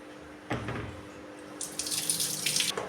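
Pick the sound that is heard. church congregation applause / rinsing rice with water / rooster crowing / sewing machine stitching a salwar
rinsing rice with water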